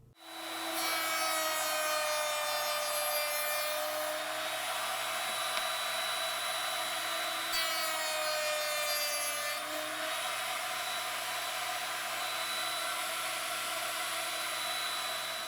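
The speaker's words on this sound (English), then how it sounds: "To make the tenon, I'm using a rabbiting bit." A router fitted with a rabbeting bit cuts a wooden tenon for a sofa table, a steady high whine that stays loud and close, with the pitch dipping slightly during passes through the wood.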